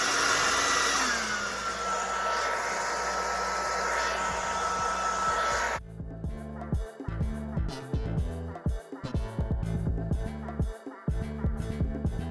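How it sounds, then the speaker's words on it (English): A hair dryer whirs with a steady high-pitched drone for several seconds, then cuts off and gives way to a different, choppier background. "Take your blow dryer."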